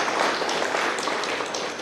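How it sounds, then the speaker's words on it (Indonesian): Brief, steady audience applause at a Paskibraka inauguration ceremony in Banggai Laut, a dense patter of clapping at moderate volume without speech. "saya minta tepuk tangan buat semua."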